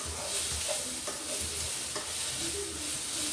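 Spices sautéing for a beef curry, a soft continuous sizzle in the pan with light scraping as a spoon stirs them, close and moderate in level with no talk.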